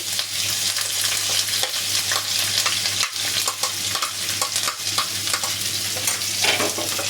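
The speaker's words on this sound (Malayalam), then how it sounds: "അതിലേക്ക് നമുക്ക് ഇഞ്ചിയും ചതച്ച് വെച്ച ഇഞ്ചിയും വെളുത്തുള്ളിയൊക്കെ ഇട്ട് കൊടുക്കാം" Crushed ginger, garlic and curry leaves sizzle and crackle loudly in hot coconut oil, with steady frying hiss and intermittent stirring scrapes, close up and without talk.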